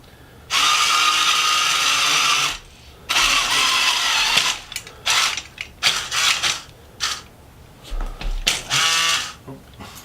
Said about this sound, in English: run your motor in a clockwise direction in order to spool in the down line